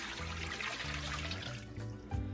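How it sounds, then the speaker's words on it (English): Water poured into a cooking pot while making Gambian plasas, a steady broadband splash and trickle running continuously at close range with no talk over it. "we're gonna go ahead and add a little bit of water"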